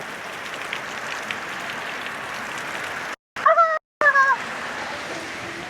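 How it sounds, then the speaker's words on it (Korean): A sudden heavy rain shower pours down outdoors, a steady dense hiss of falling water that holds loud and even throughout, broken by a brief silent gap near the end. "어 비가 갑자기 오네요. 소나기인데, 오, 비 많이 오는데?"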